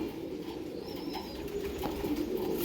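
A young pair of red flower (lal phool) pigeons coo softly and continuously, with low murmuring calls heard nearby against a faint background hiss and no speech.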